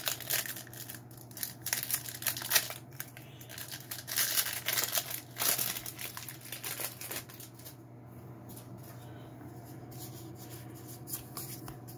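Trading card packs, Pokémon cards among them, being torn open and handled, with bursts of crinkling foil wrapper and crisp tearing that shuffle into softer card handling, close up and alone without talk.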